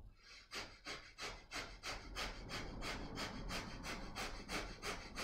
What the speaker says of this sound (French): vous allez prendre la respiration du feu